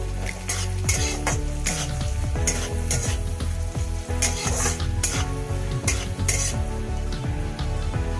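Lightly fried vegetables dusted with turmeric sizzle in a pan for chira pulao, with a steady frying hiss broken by repeated metallic clinks and scrapes of a spoon against the pan.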